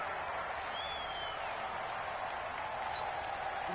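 A loud stadium crowd roars without pause in a football video game with home field advantage, making a dense, unbroken wash of noise with no clear voices.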